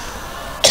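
A single sharp cough bursts out near the end, loud and close, after a stretch of quiet room noise during a crowded Islamic sermon gathering.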